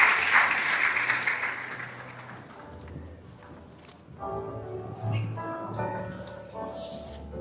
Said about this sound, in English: let's give those business graduates a round of applause